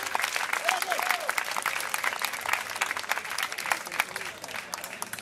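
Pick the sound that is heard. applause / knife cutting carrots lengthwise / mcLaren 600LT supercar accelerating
applause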